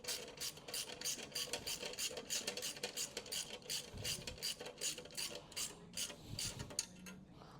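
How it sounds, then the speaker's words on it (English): Ratcheting and rasping metal clicks in quick rhythmic bursts as nuts on a Subaru Solterra spare wheel assembly are tightened with a 10mm ring spanner, fairly faint and close. "We grab our little 10mm ring spanner and we just do those up tight."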